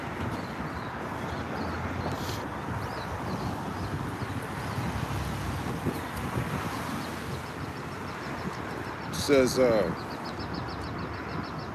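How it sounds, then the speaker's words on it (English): Strong outdoor wind roars steadily against the microphone throughout, with a brief louder gust near the end and a voice speaking faintly underneath. "It's getting pretty bad out here with the wind"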